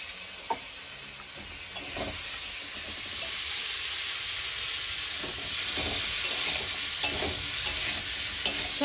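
Vegetables with cumin powder sizzle steadily in a hot pan while a utensil scrapes and stirs them at irregular intervals, close and continuous.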